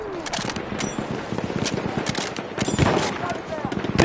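An enemy machine gun rattles in Battlefield 1, with rapid irregular bursts of close, loud gunfire that continue throughout and mix with other battlefield shots.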